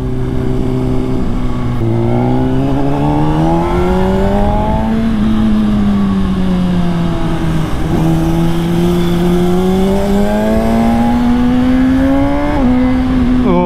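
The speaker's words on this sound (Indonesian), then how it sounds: "pas RPM-nya udah cukup tinggi, perpindahan giginya tuh enak banget pakai quick shift, halus banget guys" Honda CBR 600RR 600cc sport bike (2022) revving hard through the gears, engine pitch climbing then dropping sharply at each quick-shift; loud, close and continuous, with several rising sweeps and no talking.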